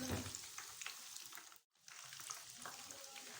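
Chicken leg pieces fry in hot oil with a dense, close sizzle and crackle that cuts out briefly midway and then resumes, with no talking.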